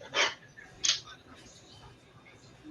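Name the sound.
puppy barking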